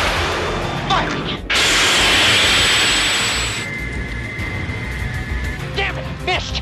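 A missile fires from a fighter jet during a 1986 movie dogfight. A loud, roaring whoosh rises over jet engine noise and lasts a couple of seconds before fading, with brief shouted radio talk around it.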